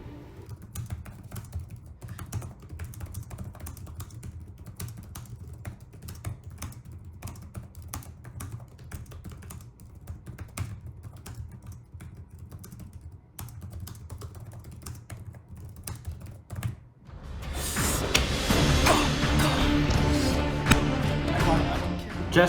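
One-handed typing on a computer keyboard, rapid irregular key clicks for most of the stretch, then a louder, denser burst of clattering keys near the end; no talk.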